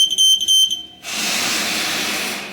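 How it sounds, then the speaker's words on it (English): Heater controller after an override start, giving a steady run of bright, rapid electronic beeps for about a second, then a loud continuous hiss of a heater starting up that carries on to the end. "wait for it to beep"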